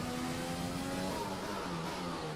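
A Formula 1 car engine in the racing game F1 2020 on a qualifying lap in Vietnam drones steadily and close, its pitch dipping as it shifts down through the gears.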